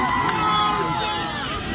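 A crowd cheers and shouts continuously in a brief, dense burst of voices, loud and close.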